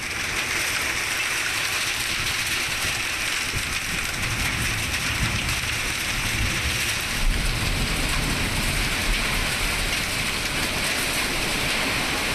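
Hailstorm rain pouring down in Tirupattur, a dense, steady hiss of falling water and ice drumming on surfaces, loud and unbroken for the whole stretch with no voices.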